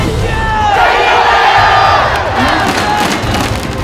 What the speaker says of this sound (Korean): 기아 타이거즈 팬들이 응원하고 있다.